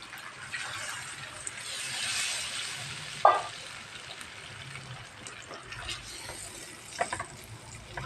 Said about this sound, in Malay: Okey, kita letak air.